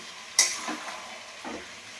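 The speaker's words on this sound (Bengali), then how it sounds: "লাউগুলো আমি একে একে দিয়ে মশলার সাথে ভালো করে নেড়ে নেবো" Large pieces of bottle gourd are stirred into spices frying in a pan. A sharp scrape or clink sets off a low sizzle, and a second softer stir follows about a second later, close and fairly quiet.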